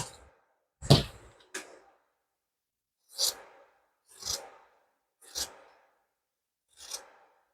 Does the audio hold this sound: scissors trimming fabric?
yes